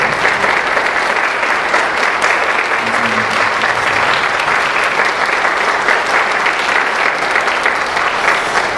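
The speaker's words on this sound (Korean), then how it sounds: "우리 박수로 한번 환영해 주시면 좋겠습니다." A church congregation applauding to welcome a visiting ambassador, dense sustained clapping from many hands filling the room, steady and loud throughout with no break.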